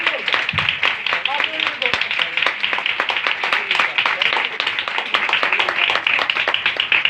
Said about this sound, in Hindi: एक बार अपने लिए ही जोरदार तालियां बजा दीजिए